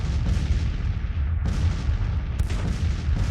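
Cannon artillery fire from Civil War guns in a Gettysburg battle strategy game, a dense, continuous rumble of booming shots with sharper reports near 1.5 and 2.4 seconds, loud and without talk.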